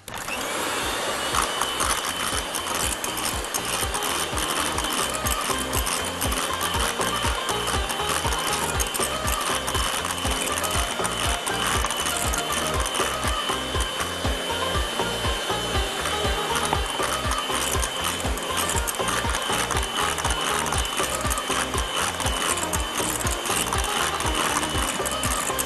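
An electric hand mixer whirs steadily and loudly, beating ice cream mixed with green apple jelly, its motor and beaters making a continuous rattling mechanical buzz with a rapid regular pulse throughout, with no voices.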